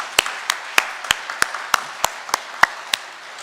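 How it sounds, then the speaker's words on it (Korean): A church congregation claps during a year-end Sunday worship service: a sparse, loose patter of about a dozen distinct claps, spaced unevenly, moderately close, with no talk over them. "우리 고마운 마음을 담아서 다시 한번 따뜻한 박수 보내겠습니다."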